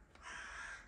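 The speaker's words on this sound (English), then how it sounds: "the birds are going crazy" A single crow caws outside, a faint, drawn-out call at a distance with no talking over it.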